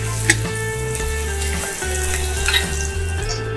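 Onion fries in oil in a pan on a high flame, a steady close sizzle with a constant crackle and hiss and a few brief stirring scrapes, heard alone with no talking.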